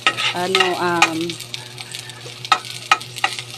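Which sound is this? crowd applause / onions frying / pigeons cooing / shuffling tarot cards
onions frying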